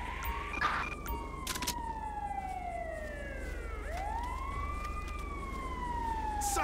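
Emergency vehicle sirens in the video game GTA 5 police roleplay wail continuously, sweeping down and then back up in pitch at moderate loudness, with brief sharp clicks near the start and no speech.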